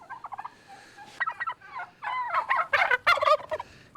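A tom turkey gobbles near a barn, several loud rattling gobble bursts in quick succession with shorter clucks between them, close to the microphone, no talking.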